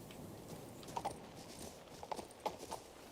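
A horse's hooves clip-clop in the video game King's Bounty II: faint, irregular hoofbeats over a quiet background, ending with a louder knock.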